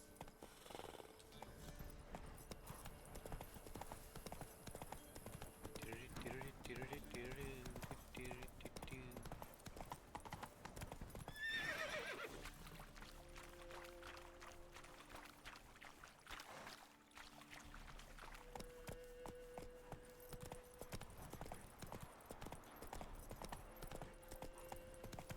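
Roach, the horse in The Witcher 3, with steady clip-clop hoofbeats of galloping running throughout, accompanied by a whinny and game music and ambient sound.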